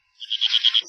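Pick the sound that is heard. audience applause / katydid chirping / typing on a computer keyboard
katydid chirping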